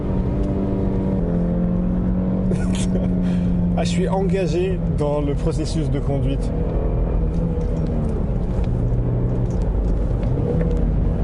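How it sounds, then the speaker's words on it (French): A BMW E90 320si engine hums and revs from inside the moving car, a steady, rising drone heard under someone talking throughout. "On a le temps de profiter d'une montée de régime, écoutez ça."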